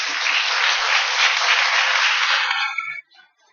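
A standing church congregation at a Catholic charismatic renewal gathering claps together in dense, loud applause for about three seconds before it cuts off abruptly.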